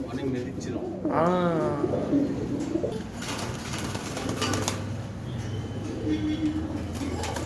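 Caged pigeons cooing at a rural bird market, with soft repeated coos and a flutter of wings under someone talking nearby.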